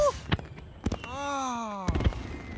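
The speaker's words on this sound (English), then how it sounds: "I love fireworks!" Cartoon fireworks go off as several sharp bangs and pops, with a rising whistling tone between them and a final burst of bangs, fairly close and clear.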